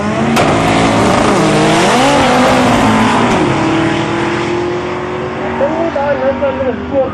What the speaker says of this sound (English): Camaro gaan rustig weer na die volgende ronde toe